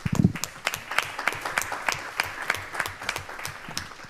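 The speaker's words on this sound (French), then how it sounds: "je crois qu'on peut l'applaudir" An audience applauds a speaker at a French council session, with dense, steady clapping that runs the full four seconds at an even, moderate loudness.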